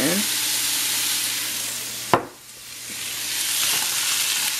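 Salmon stir fry sizzles loudly in sesame oil in a pan. A sharp clatter of stirring cuts in midway, the hiss dips briefly, then it swells back to a steady frying sizzle.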